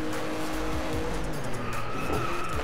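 In Driveclub, a race car brakes hard with its tires squealing under a loud, steady engine roar, the squeal rising in pitch through a short stretch.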